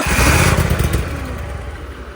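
A Dutch Witch trencher's small engine runs up close, with a loud, rough, throbbing putter that eases slightly in level over a couple of seconds.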